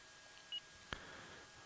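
A phone in the video game World End Syndrome gives a short electronic beep, then a sharp brief click-tone, both faint against near silence.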